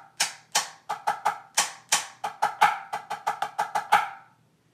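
Sharp drumstick strokes on a practice pad play a drum rudiment check pattern with diddles, about eighteen crisp close hits in an uneven rhythm of singles and quick doubles, then silence.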